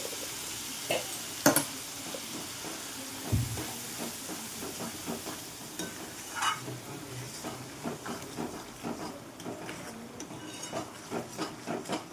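Tadka tempering for pumpkin halwa sizzling in a small pan: a soft steady hiss with scattered pops and spoon taps, faint and close, no talk.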